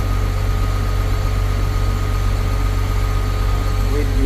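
A newly overhauled CAT 950H wheel loader's engine idles at around 900 RPM, a loud, steady low-pitched drone with a constant hum and no change in pace throughout.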